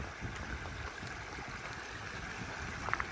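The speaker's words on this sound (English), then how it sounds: "This is Glacier Creek." Glacier Creek, a mountain stream on the Pacific Crest Trail, runs as a steady broadband rush of flowing water, even and continuous throughout, with a couple of faint brief tones near the end.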